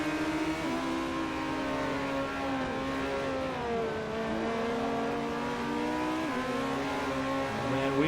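A race car engine in the Forza 4 game version of the 2008 Petit Le Mans revs hard and steadily, its pitch climbing and dropping through gear changes as the car follows a rival Acura, loud and close with no talk.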